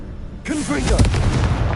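A Confringo blasting spell in Hogwarts Legacy erupts abruptly into a loud, close explosion that rumbles on briefly, with a voice speaking over the moment of the blast.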